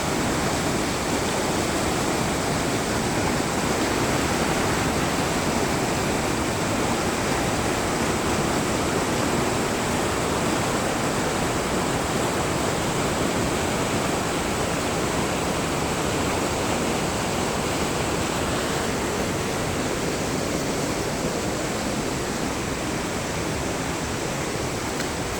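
A waterfall in Dakcheung, Sekong, roars in a loud, dense, unbroken rush of falling water that stays constant for the whole stretch, with no voices.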